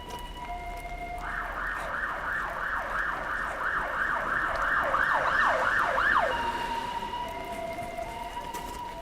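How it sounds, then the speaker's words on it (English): A police car siren on a Helsinki street, wailing up and down in a fast repeating cycle that rises, then cuts off after about five seconds, over steady city traffic noise. "Yes, a police car."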